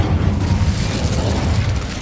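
Incendio fire spell cast in the video game Hogwarts Legacy, a dense, loud roaring burst of flame that sustains steadily for about two seconds with no talk over it.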